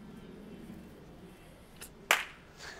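A single sharp hand clap rings out near the end, preceded by a softer transient and quiet room tone, with no talk over it.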